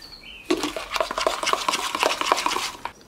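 Homemade chalk paint being stirred vigorously in a container for a DIY furniture project, producing rapid rhythmic scraping and clinking strokes, close and fairly loud, with no talking.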